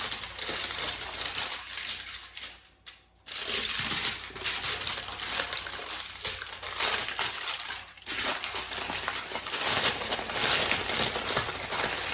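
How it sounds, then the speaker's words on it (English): Cellophane crinkles and crackles continuously as it is wrapped around bundles of celery, a close, dense rustling with a couple of brief pauses. "So I'm gonna wrap these in cellophane"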